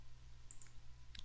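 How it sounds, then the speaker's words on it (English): Mouse clicks on a computer, two faint, sharp clicks close together near the middle and another near the end over a low steady hum. "Let's go ahead and click OK."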